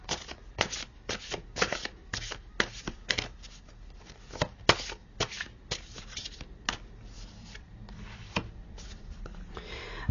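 Tarot cards being shuffled by hand, close and clear, a steady series of crisp riffling slaps and soft card rustles repeating in an irregular rhythm, alone with no talking.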